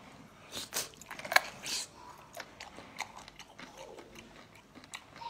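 Sea cucumber dipped in vinegar being bitten and chewed close to the mic, with soft wet crunches and smacks in an uneven rhythm and no talking.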